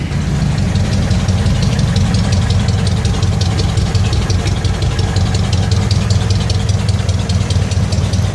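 A 1936 Ford 1 1/2 ton truck with an 8BA flathead V8 idles after a cold start, a loud, steady low chugging with a rapid even knocking rhythm, close up and uninterrupted.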